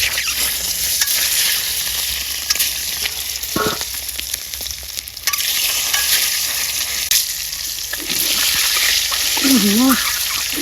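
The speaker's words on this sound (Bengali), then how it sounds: "ডিম দিয়ে দিলাম" Eggs sizzle loudly in hot oil in a wok, a steady bright crackle throughout with occasional stirring scrapes and brief low voice-like sounds near the end.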